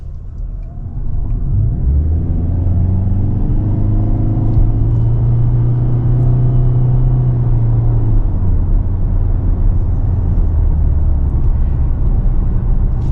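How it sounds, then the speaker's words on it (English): A 2024 Toyota Corolla LE Hybrid AWD pulls away from a stop, its engine rising in a steady droning hum over about six seconds, then settling into a loud, even road rumble heard from inside the cabin. "And now we're going to take off."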